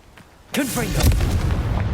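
A Confringo spell explosion in Hogwarts Legacy bursts suddenly after a short quiet stretch, a loud, close fiery boom with a rumbling tail, as a voice shouts at the moment of casting.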